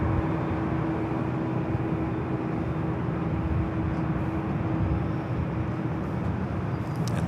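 Steady, loud jet engine roar with a low hum from a United Dreamliner taxiing at LAX airport, continuous and fairly close with no voices.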